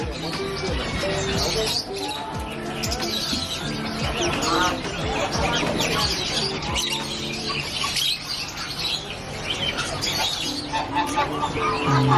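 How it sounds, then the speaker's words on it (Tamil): Pigeons and sparrows at a busy pet market in Bangkok's JJ market, with steady chirping and cooing bird calls mixed into a loud, dense crowd of voices and market bustle throughout. "உள்ள வந்து புறா, குருவி அந்த மாதிரி நிறைய இருக்கு."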